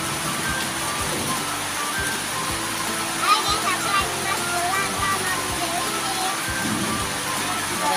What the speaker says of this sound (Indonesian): Ini hujan-hujan teman-teman,